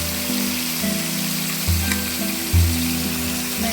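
Bay leaves and whole spices hit hot oil for a Bengali-style chicken and potato curry, giving a steady close sizzle over a low hum, with a couple of soft thuds from the pan.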